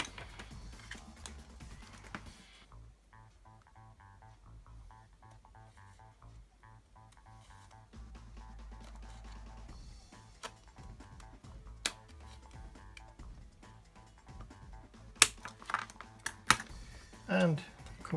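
Scissors cutting through an expired plastic credit card: a few sharp snips and crunchy clicks near the end, preceded by quiet handling and low rustling close to the microphone.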